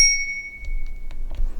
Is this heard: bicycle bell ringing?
yes